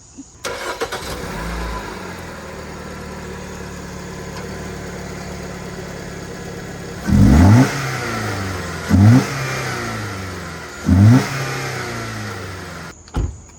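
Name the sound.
vehicle engine starting and revving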